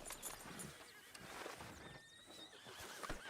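A horse in Red Dead Redemption 2 gives a clear whinny with a few hoof clip-clops, close and fairly quiet.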